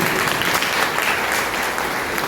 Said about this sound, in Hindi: अपने लिए ताली बजा लीजिएगा प्लीज कि इतने ग्रेट नंबर में पेरेंट्स आए हैं।